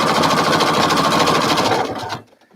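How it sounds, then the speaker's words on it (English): A sewing machine stitches along the outside lines of a quilt block, a loud, close, fast steady whirring with rapid needle clatter that runs continuously and then stops abruptly near the end. "I'm going to sew along just the outside lines."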